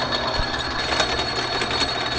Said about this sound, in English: I gotta even drill this in low speed because this big turd is so out of balance, it shakes my whole little lathe.